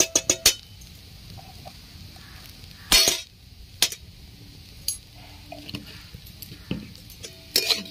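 A spoon scrapes and clinks against a pan as vegetables and semolina are stirred in ghee, giving sharp intermittent clatters over a faint, steady sizzle.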